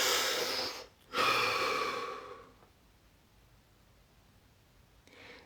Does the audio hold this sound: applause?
no